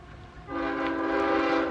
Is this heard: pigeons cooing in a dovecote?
no